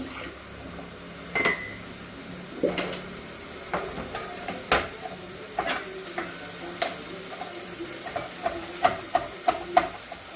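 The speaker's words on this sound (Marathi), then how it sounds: "तेल सुटेपर्यंत आपल्याला परतवत राहायची अशी कंटिन्यू" Spice masala sautéing in oil in a pan for a drumstick and potato curry, with a soft steady sizzle broken by repeated sharp scrapes and taps of a spoon against the pan, growing more frequent toward the end.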